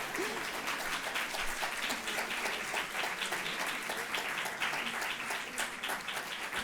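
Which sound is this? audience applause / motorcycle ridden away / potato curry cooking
audience applause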